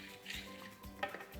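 Thin crepe batter of flour and milk being stirred for chicken crepes, light clinks and scrapes of utensil against bowl in a few quick strokes, close and fairly quiet with no talk.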